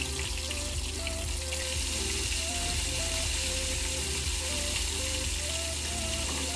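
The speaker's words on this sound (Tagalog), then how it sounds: "kunting prito lang yan, kumbaga i-crispy lang natin ng kunti" Chicken wings for salted egg and lemon wings crisping in reused frying oil, giving a dense, steady sizzle and crackle with scattered pops throughout, close up and with no talk.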